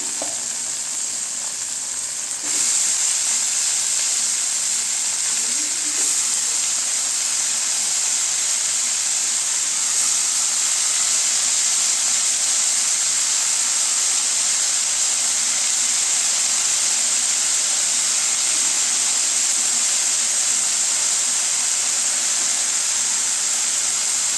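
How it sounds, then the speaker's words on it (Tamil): Greens sautéed in a pan for kumutti keerai koottu, a loud, continuous sizzle and hiss sustained steadily throughout, with occasional faint stirring scrapes and no talk. "கீரை சேர்த்து நல்லா வதக்கி விட்டுக்கலாங்க"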